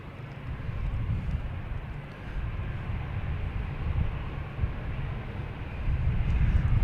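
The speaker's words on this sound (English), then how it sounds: "next to arrive is an American Airlines 737 MAX 8 coming in from Detroit" An American Airlines Boeing 737 MAX 8 arriving from Detroit comes in to land at Boston Logan, a steady, moderately loud engine rumble that swells slightly toward the end.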